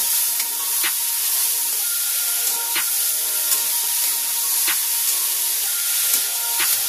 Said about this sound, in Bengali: আবারও বাঁধাকপিটা ভালো করে নাড়াচাড়া করে পেঁয়াজের সাথে ভেজে নেব।